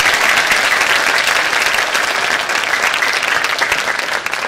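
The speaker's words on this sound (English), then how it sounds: "Let's give them a big round of applause." Full, sustained applause from a school spring concert audience for the young performers, thick and even from start to finish with no talking over it.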